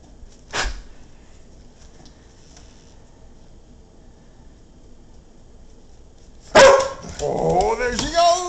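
A dog barks once sharply in a snowstorm, then after a quiet stretch breaks into a loud, close burst of barking and yelping.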